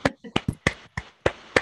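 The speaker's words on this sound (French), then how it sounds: "Ouvrez tous les micros et on peut applaudir à distance." A handful of scattered claps from a small remote audience come through open microphones on a video call, sparse and uneven, about seven distinct sharp hits over a second and a half.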